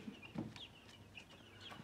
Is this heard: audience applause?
no